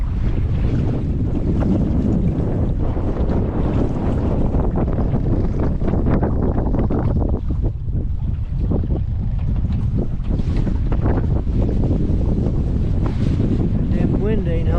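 Strong wind buffets the microphone during a boat ride on the water at Hoover Dam, a loud continuous roar with gusty swells and some faint voices underneath.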